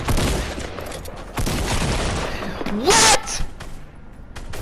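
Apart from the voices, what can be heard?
gunfire in the video game Fortnite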